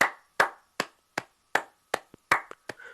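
Sharp, evenly spaced hand claps ring out one at a time, about eight crisp smacks with short decays and a few quicker double claps, close and alone without any voices.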